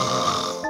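Several people fake a snore together on cue, a short, raspy, guttural burst of voices imitating sleep sounds, close and loud, lasting under a second.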